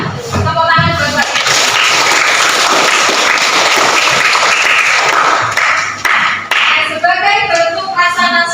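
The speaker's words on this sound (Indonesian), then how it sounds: "Tepuk tangan buat" Loud, dense classroom applause from students during an Indonesian language lesson, a steady roar of clapping with voices chanting or calling out at the start and end.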